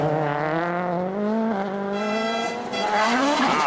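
A rally car at WRC Germany 2011 roars along a tarmac stage, its engine loud and close with rising and falling revs through gear changes, a brief tyre squeal, and no talk.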